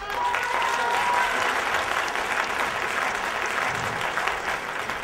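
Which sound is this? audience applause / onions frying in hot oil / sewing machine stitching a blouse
audience applause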